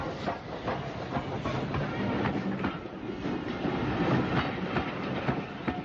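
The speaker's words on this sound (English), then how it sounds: "A Schools Class 440 is on the up service." A Southern Railway Schools Class steam locomotive, 1950s Kent, hauls an up service past, a steady rolling rumble with rhythmic clickety-clack of wagon wheels over rail joints and some hiss, loud and continuous throughout.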